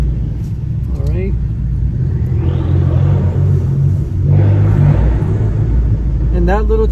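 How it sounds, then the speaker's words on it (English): A 2017 Fiat 500 Abarth turbo engine idles and revs with a steady low rumble, broken by two short breathy bursts of turbo flutter from the blow-off valve, with a brief voice near the start and end. "And that little chipmunk sound is turbo flutter."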